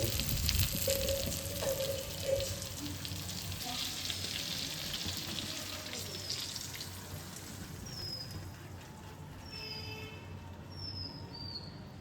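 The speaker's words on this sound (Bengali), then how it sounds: "দুধটা পড়বে, দুধটা ফুটতে লাগবে, তখন আমার সেইটাকে নেড়ে দেবো।" Milk coming to a boil with mango for a sweet Bengali mango pickle bubbles and hisses steadily in a pan with occasional stirring, with faint high squeaks and clinks later on.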